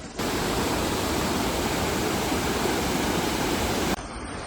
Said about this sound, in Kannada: ಇದೇನೆ ಬಾವಲಿ ನದಿ